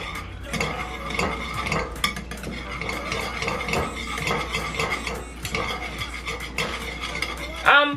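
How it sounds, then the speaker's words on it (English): Jamaican cornmeal porridge stirred in a pot, with a spoon scraping and clinking against the sides in a steady, close rhythm, a low hum underneath and a louder knock near the end. "And then we stir."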